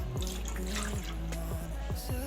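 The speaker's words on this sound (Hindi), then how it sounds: "मज़ेदार और कड़क चाय बनाने के लिए पैन में सबसे पहले हम 1 गिलास पानी का लेंगे।" A glass of water is poured into a pan to start masala chai, giving splashy, gurgling liquid sounds with a run of quick repeated glugs and drips, close by.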